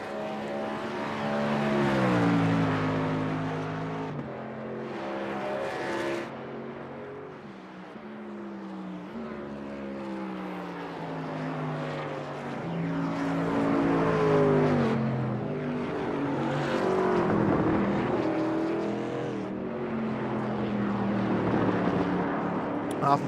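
Race truck engine in the iRacing Blue Ridge Auto Group Truck Series at Canadian Tire Motorsport Park, droning steadily down the backstretch on a qualifying lap, pitch rising and falling through gear changes, loud and continuous under occasional commentary.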